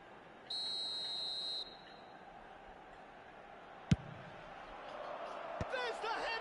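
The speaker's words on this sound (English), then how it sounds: "The half-time whistle goes." A referee blows the half-time whistle at a football match, one sustained shrill blast standing out over distant crowd murmur, followed later by a sharp knock and rising crowd noise.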